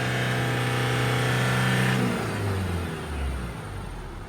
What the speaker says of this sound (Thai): เมื่อกี้ผมเร่งไปเกือบสี่พันรอบ ไม่มีควันเลยนะครับ